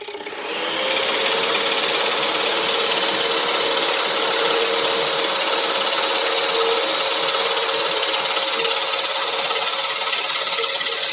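A scroll saw cutting wood for 3D castle pieces, a steady close buzzing whir with a faint high whine, running alone without pause for the whole stretch.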